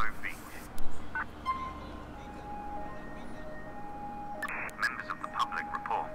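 Phone keypad tones dial for an ambulance in GTA IV with the LCPDFR police mod, a few short beeps sounding over a low game ambience, with a burst of tones near the end.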